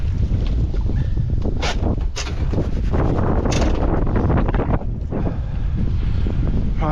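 Strong wind buffets the microphone aboard a fishing boat out at sea, a loud continuous roar with gusty swells and no clear speech.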